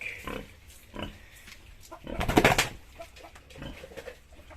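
A mother pig on a farm with her fifteen piglets, giving several low close grunts and a louder burst of squealing oinks in the middle, with soft snuffling and movement around.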